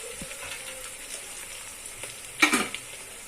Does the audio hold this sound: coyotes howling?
no